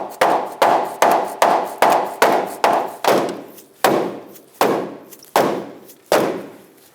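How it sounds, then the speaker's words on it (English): Repeated dull thuds of a small rubber dead blow mallet striking a seized control arm bolt on a 2008-2012 Jeep Liberty, about a dozen blows, quick and even at first, then slower and spaced out. "to punch the bolt out, I'm going to start with a small dead blow rubber mallet"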